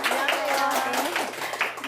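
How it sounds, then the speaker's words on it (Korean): Audience at a Korean lecture show applauds to welcome a dermatologist onto the stage, a steady wash of clapping with voices mixed through it. "정혜신 박사님을 큰 박수로 한번 모셔볼게요."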